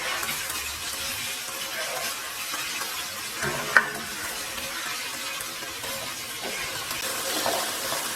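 Pork mince being stirred with sauce in a frying pan for an Asian pork and green bean stir-fry: steady scraping and a soft sizzle throughout, with one sharp utensil knock near the middle.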